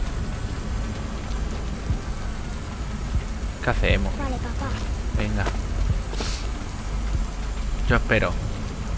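Steady rain hiss in the video game Killzone Shadow Fall runs continuously under a child's and a man's Spanish conversation, with brief mechanical clicks and blips breaking through.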